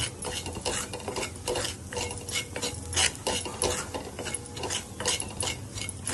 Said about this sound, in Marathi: आता याच्यात आमचूर पावडर मेन याच्यामध्ये आमचूर पावडर असते हे आमचूर पावडर घालायची आपण हे परतून घेऊया चांगलं